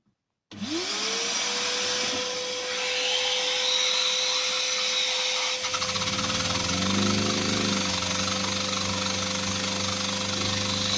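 A steady mechanical whirring hum from a Lego pneumatic engine starts abruptly and runs continuously, loud and close, with a rising whine at the start and a slight change in pitch midway.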